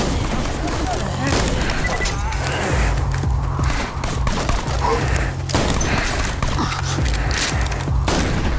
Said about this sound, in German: Gerade einfach mal 30 Schuss verballert.